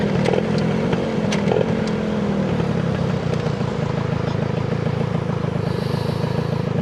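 Yamaha Y110SS motorcycle engine droning steadily while riding, a continuous low hum heard from the rider's position, with brief clicks and faint wind noise over it.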